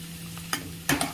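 Chopped tomato drops into a pan of sizzling onion and vegetables for chow mein, giving two brief louder hisses and clatters over a low steady fry.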